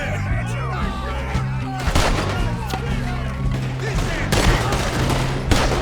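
Dense volleys of gunfire in a Red Dead Redemption 2 shootout, with rapid overlapping shots and heavier booms cracking loudly over a steady layer of low game music throughout.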